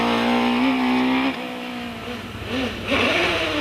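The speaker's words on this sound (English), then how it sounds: "Penrose drives the biggest OMS on the hills with its 4-litre Cosworth DFL V8." An OMS single-seater hillclimb car with a 4-litre Cosworth DFL V8 screams loudly at close range, its high engine note holding steady, dropping briefly as it shifts or lifts, then climbing and revving hard again.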